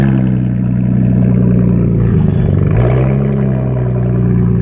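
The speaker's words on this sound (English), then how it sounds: "that is the timing chain" A car engine idles loudly with a steady low drone and a rhythmic ticking rattle from a noisy timing chain, briefly dipping and wavering midway before settling back.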